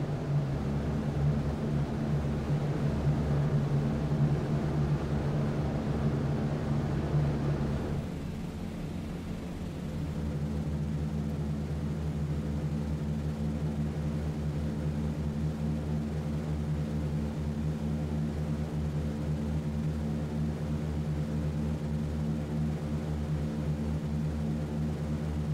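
Propeller engines of a B-17 Flying Fortress in a flight game drone loudly at takeoff, a dense steady roar that dips briefly, then settles into an even, sustained hum.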